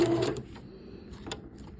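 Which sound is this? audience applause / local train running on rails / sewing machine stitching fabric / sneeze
sewing machine stitching fabric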